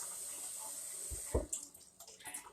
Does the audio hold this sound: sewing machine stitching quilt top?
no